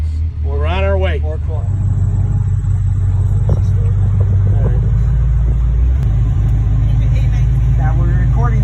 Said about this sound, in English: riding around in a Batmobile